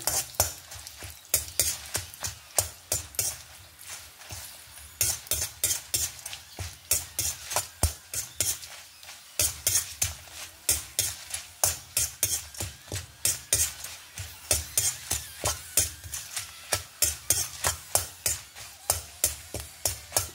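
Onion and dried red chillies fry in a pan for a spicy onion chutney while a spoon stirs them, a steady soft sizzle under rapid rhythmic scraping strokes, close and moderately quiet.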